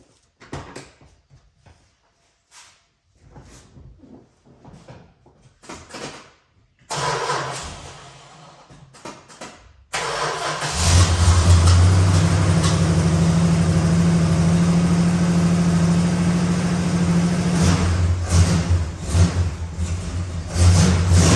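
A Dodge 383 Magnum V8 in a numbers-matching survivor car is cranked and fires up: quiet handling sounds first, a brief whirring, then the engine catches and runs loud and steady with a deep rumbling idle and revs.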